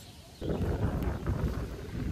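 Strong wind gusts buffet the microphone outdoors at an open-air cooking spot, a loud rough rushing that starts suddenly and keeps going.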